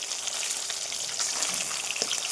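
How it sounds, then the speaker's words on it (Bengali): Katla fish pieces fry in hot oil with a steady close sizzle and small pops and crackles, lightly disturbed by a stir now and then, with no speech. "এই দেখো আবার কিছুটা ভাজা হচ্ছে"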